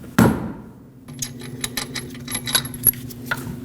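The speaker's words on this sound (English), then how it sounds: "take a rubber mallet and tap the tire, not the wheel, and that should break it free" Rubber mallet tapping the tire of a 2006-2015 Lexus IS250 rear wheel to break it free: one sharp knock, then a series of lighter, irregular taps and clinks close by.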